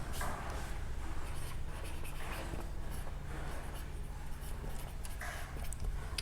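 A pen scratches across paper in close, steady strokes, a continuous soft rasp with small pauses and no voices.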